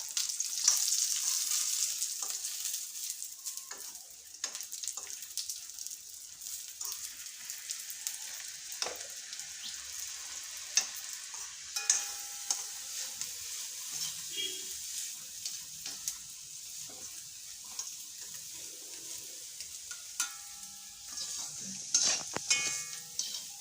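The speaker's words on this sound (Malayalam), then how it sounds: "നമ്മൾ ഇടയ്ക്ക് ഇടയ്ക്ക് ഒന്ന് ഇളക്കി കൊടുക്കുക" Beans thoran fries in a pan with coconut and a small piece of tamarind, a steady soft sizzle running throughout, broken by occasional scrapes and clinks of a spoon stirring against the pan.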